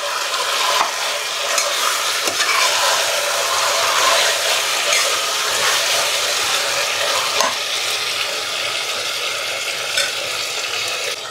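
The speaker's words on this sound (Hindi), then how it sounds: "तो बीच बीच में चलाते हुए हमें चिकन को भून लेना है" Chicken with garlic fries loudly on a medium flame, a dense continuous sizzle broken by frequent scraping strokes as it is stirred now and then, with no one talking.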